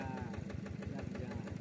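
A motorcycle engine idles nearby on a riverside fishing trip near Yogyakarta, producing a steady low pulsing putter with a continuous mechanical rumble throughout the short stretch.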